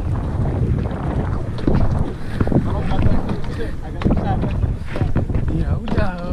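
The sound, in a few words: wind blowing while fishing outdoors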